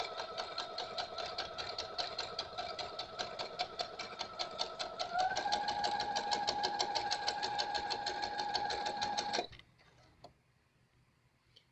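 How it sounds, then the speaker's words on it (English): A sewing machine top stitching quilt patches made from scraps, running in a steady rapid stitching rhythm that shifts pitch slightly midway and stops abruptly near the end, close and alone. "Okay, so now I'm going to top stitch on this."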